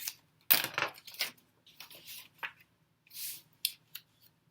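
Scissors snip through paper for a pop-up flower card in short, quiet, scattered crisp cuts and rustles with pauses between them, close up and without talk.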